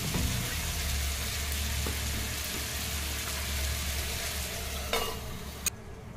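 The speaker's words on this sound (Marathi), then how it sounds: "परत 10 मिनिटं आपण हे बारीक गॅसच्या फ्लेमवर शिजवून घ्यायचं आहे" Butter chicken cooking over a low gas flame, a continuous soft frying sizzle with a low steady rumble beneath and a couple of sharp utensil clicks toward the end, no one speaking.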